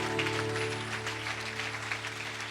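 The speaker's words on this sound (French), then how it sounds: "Si tu es avec moi, on peut donner une bonne main d'acclamation." A church congregation at a Fête des Nations service applauds, a sustained clatter of many hands clapping over a low steady hum, moderately loud throughout.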